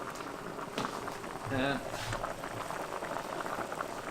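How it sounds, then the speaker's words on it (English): A pot of water for chicken soup bubbles at a rolling boil on a stovetop, a steady dense gurgle throughout, with a voice briefly speaking over it. "She's boiling here now"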